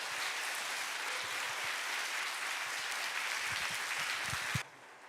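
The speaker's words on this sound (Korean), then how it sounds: "한번 미시간이 떠나가라 하는 그런 박수로 우리 목사님을 모시겠습니다." A church congregation at a fall revival meeting in Michigan applauds the pastor with dense, steady clapping that holds for several seconds and then cuts off abruptly.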